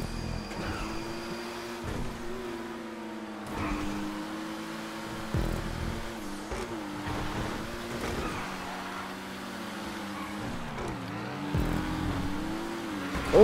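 A Pariah race car in GTA 5 drones along at racing speed, its engine note rising and dipping through repeated shifts and corners, with brief tire noise and bumps.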